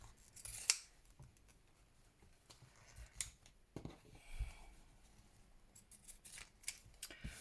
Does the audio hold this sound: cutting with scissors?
yes